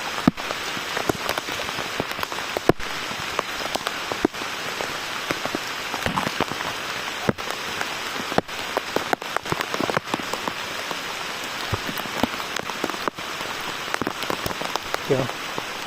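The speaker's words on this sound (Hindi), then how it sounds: "कुछ लोग बारिश से परेशान हैं और कुछ बारिश के मज़े उठा रहे हैं।" Heavy rain falls steadily in the Adrai jungle on a trek, a dense, close hiss of drops spattering on leaves and surfaces with scattered louder drips throughout.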